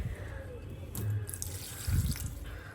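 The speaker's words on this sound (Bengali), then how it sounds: "এখন নিয়ে চলে এসেছি মগে করে জল। আমার এই ফুল গাছগুলোতে জল দিতে হবে" Water poured from a mug onto flower plants gives short splashing, trickling pours close by, swelling in two or three brief surges with faint background noise.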